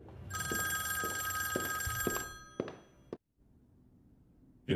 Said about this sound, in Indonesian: Tiba-tiba terdengar suara telepon dari ruangan frontman.